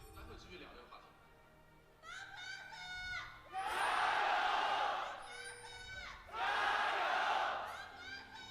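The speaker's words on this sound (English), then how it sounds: "every time you hear FPX chant in the crowd, it is Doinb's wife" At an LPL 2019 esports match, FunPlus Phoenix vs Bilibili Gaming, the crowd roars out a chant of FPX in repeated rhythmic surges under a caster's steady commentary.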